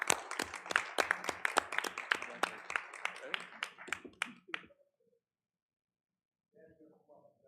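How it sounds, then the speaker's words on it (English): Audience at a school committee meeting breaks into a round of applause, dense rhythmic clapping for about four and a half seconds that fades out, followed by silence and then faint talk. "she deserves a big round of applause and some pictures"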